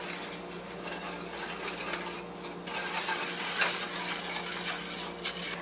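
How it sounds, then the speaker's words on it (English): A whisk clinks steadily against a pan as peach Jello is stirred into a glaze on the stove, light metallic scraping and tapping with no talk. "Whisk it together."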